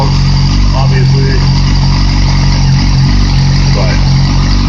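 2008 Yamaha R6R motorcycle engine running without its exhaust tip, a loud, close, raw and steady mechanical drone throughout, with faint speech underneath.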